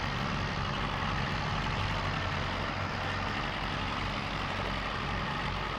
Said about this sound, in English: Has anyone else ever used this tractor? The Zielonka 5545?